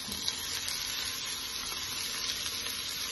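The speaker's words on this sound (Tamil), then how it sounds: "காய்கறியோட பச்சை வாசம் போகிற அளவுக்கு நீங்கள் வதக்கினா போதுங்க" Vegetables sautéing in a pan for veg rice give off a steady, close, bright sizzle that holds evenly for the whole stretch, with a few faint stirring scrapes and no voices.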